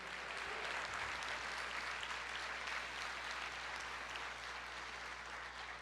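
Church congregation applauding: dense, steady clapping from a crowd that holds at an even level throughout, heard from a distance over a low electrical hum.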